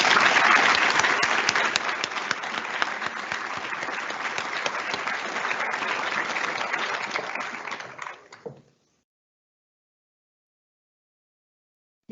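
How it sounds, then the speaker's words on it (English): Sustained applause from a large audience closing a medical school white coat ceremony at RCSI, a dense, loud wash of clapping that holds steady for about eight seconds before quickly fading to silence. "Please give yourselves a round of applause."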